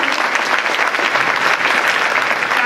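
Steady, dense applause fills a crowded hall at a Hispanic charismatic Catholic congress, a continuous roar of many hands clapping close by, with no pauses across the whole stretch.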